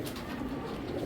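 A Belgian choco racer pigeon coos in a steady, close, continuous low murmur that fills the short moment with no talk.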